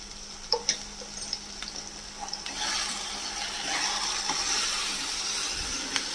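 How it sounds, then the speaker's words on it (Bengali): Spice paste with dried fish, salt and turmeric sautéing in a pan: a few sharp spatula knocks come first, then a soft, steady frying sizzle continues under occasional light scraping. "এবার শুটকি মাছের সাথে এই মশলাটা খুব ভালো করে কষাবো।"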